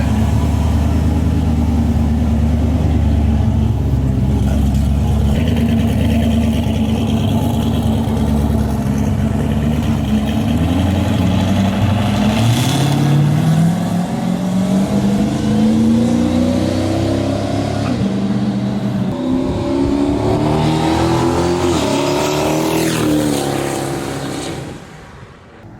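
A Toyota 1JZ-GTE engine revs under throttle, its loud droning pitch climbing and falling repeatedly up close, then cutting off abruptly at the end.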